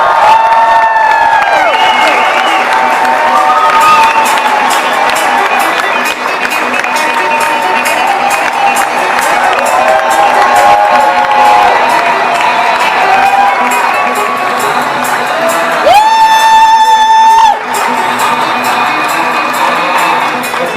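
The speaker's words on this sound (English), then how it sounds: "Please give him a big cheer." A large crowd in a high school gym in Mesa cheers, whoops and applauds for a senator, loud and sustained throughout with shouting voices, the cheering swelling again near the end.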